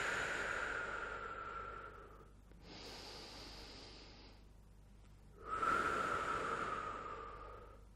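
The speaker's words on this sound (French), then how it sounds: "on respire, on inspire par le nez et on expire par la bouche" During a full-body strengthening workout, a person breathes in through the nose and out through the mouth: a long airy exhale, a shorter hissing inhale, then another loud exhale, close and alone.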